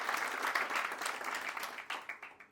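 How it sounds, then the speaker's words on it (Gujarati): An audience at a career guidance seminar claps, a dense burst of applause that stays strong and then thins into scattered, fading claps. "જોરદાર તાળીઓ સાથે"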